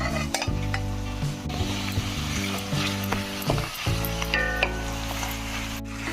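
Boiled mutton dropped into onions and ginger garlic paste frying in a pan for Andhra gongura mutton curry, a close steady sizzle with spoon scrapes and pan clinks, settling into a fuller fry after a clatter.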